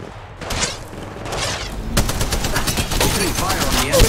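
Gunfire in Apex Legends Mobile during a squad fight: sustained rapid automatic shots, loud and near, with a brief lull before a heavier continuous barrage to the end.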